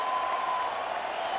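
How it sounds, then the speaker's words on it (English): Steady roar of a large baseball stadium crowd clapping and cheering at a Royals versus Tigers game, dense sustained applause heard from within the stands without a break. "this is such a feeling when the crowd is making this noise"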